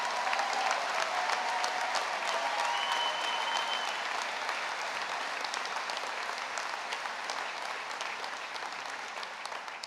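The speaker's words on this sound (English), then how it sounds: "give them a round of applause" Graduates at a graduation ceremony receive sustained applause from a large audience, a dense steady clatter of clapping that fills the hall and fades only slightly toward the end.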